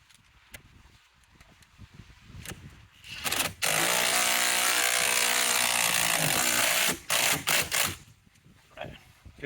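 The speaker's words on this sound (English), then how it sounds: "Then we install our large 50 bolt here and tighten that up." A large bolt is tightened on the steering wheel of a 2008–2016 Chevrolet Cruze, with sharp ratcheting clicks around a few seconds of a loud, steady mechanical whirr, then more short clicks.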